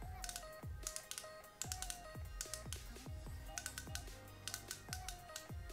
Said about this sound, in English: So you're gonna keep on clicking until something comes out.